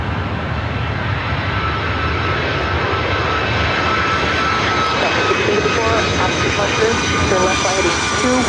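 A Southwest jet airliner departs LAX, its engines making a steady, loud, broadband roar throughout, with faint radio chatter mixed in.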